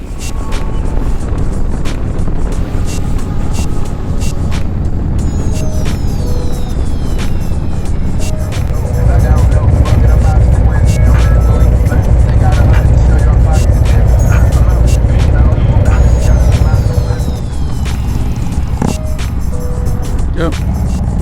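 A motorcycle on the open road during a long-distance ride, its steady engine drone mixed with loud wind rush throughout, and a rider talking over the noise.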